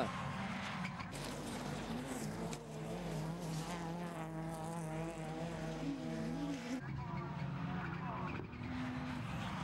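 Rallycross cars race at the 2009 British Rallycross superfinal at Mallory Park, with engines roaring and revving continuously, pitch rising and falling through gear changes. A French commentator talks over the racing noise.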